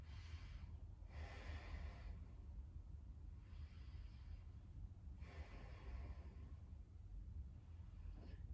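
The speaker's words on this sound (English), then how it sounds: "we're breathing long and deep for 1 minute here" Long, deep breaths during a Kundalini yoga session, slow inhales and exhales repeating roughly every two seconds, close and soft over a steady low background hum, with no talking.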